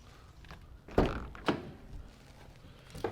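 The rear door of a 2016 Citroen Relay 2.2 HDi L3H2 van is opened, giving two distinct metallic thunks about half a second apart and a third clunk at the end, with soft handling noise between them.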